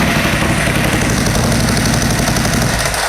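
A drag motorcycle's engine idles with a loud, steady rumble and vibration filling the space, constant low and unbroken, close by.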